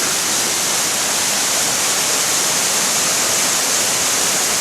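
A river in spate after heavy rain, nearly bursting its banks near Glenkiln on the way to Benlister Falls, Lamlash, roars in a loud, steady, close-up rush of fast, full water that never lets up.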